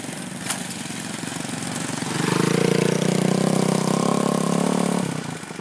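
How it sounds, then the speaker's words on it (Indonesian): A small green D4 diesel locomotive hauls a loaded train of sugarcane lorries up onto the main line, its engine droning steadily, then swelling into a louder, deeper revving labour before easing off. "Lokomotif D4 menarik naik rangkaian lori isian ini ke jalur utama."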